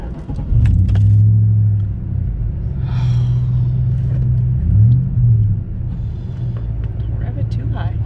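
A borrowed pickup truck with an aftermarket exhaust rumbles at idle, a deep steady drone with a brief rev in the middle, heard close up with faint background sounds.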